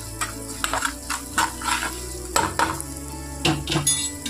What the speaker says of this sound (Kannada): ಸ್ವಲ್ಪ ಪುಡಿ ಉಪ್ಪು ಹಾಕಿ ಮಿಕ್ಸ್ ಮಾಡ್ಕೊಳ್ಳೋದು